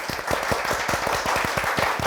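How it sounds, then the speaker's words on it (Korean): An audience at a Korean youth camp worship service claps in a dense, continuous burst of applause, filling the hall from start to finish. "우리 기대하는 마음으로 박수하겠습니다."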